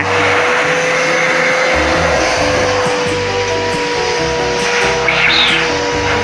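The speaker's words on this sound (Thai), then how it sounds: "เราก็จะใช้เครื่องดูดฝุ่นนะคะดูดฝุ่นออกนะคะ" A vacuum cleaner runs steadily and loudly close by, sucking dust out of the motor of an electric fan, with a constant whining roar and small shifts in tone as the nozzle moves.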